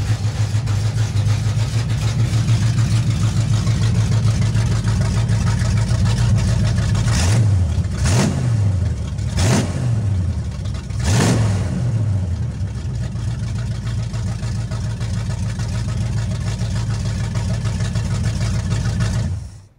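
A 1970 Chevy Nova V8 idles loud and close with a deep steady rumble, broken midway by three sharp throttle blips that rise and fall before it settles back to idle.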